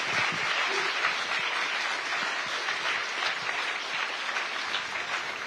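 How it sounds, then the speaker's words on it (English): A large audience at the Raisina Dialogue in New Delhi applauds a panel after a discussion, sustained dense clapping at an even, fairly loud level throughout with no talk on top. "Please join me in applauding this wonderful panel for their contribution."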